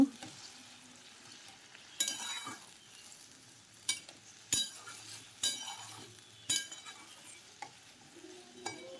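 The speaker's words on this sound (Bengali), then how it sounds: "এবার দিয়ে দিলাম জল নাড়াচাড়া করে ঝোল ফুটিয়ে নেব" Chana masala curry with water just added gets stirred in a pot, a low simmering sizzle broken by sharp clinks and scrapes of the spoon against the metal at irregular intervals, close and alone.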